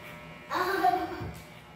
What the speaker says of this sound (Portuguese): Estou passando a máquina, é o pente 2,